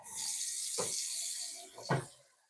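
A water pump in a hydroponic grow tower in an indoor grow room pushes water with a steady hissing rush, faint and close, broken by a couple of soft splashy gurgles.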